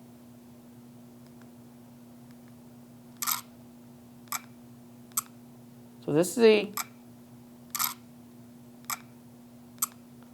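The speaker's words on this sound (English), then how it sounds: "This is the sound of the shutter as you push the shutter button, but it's actually an artificial sound." A Fujifilm X100S camera plays its artificial electronic shutter sounds. About eight short, crisp clicks are spaced out over a quiet background, and someone speaks briefly in the middle.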